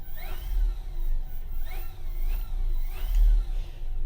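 A Genesis Hellfire ride-on vehicle drives forward at full speed, its electric motor giving a mid-pitched whirring hum that swells in repeated surges, with rolling wheel noise underneath and no talking.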